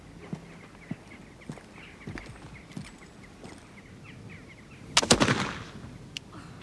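A single sharp pistol shot cracks out near the end, loud and close, following a stretch of soft rhythmic clip-clop and small outdoor noises.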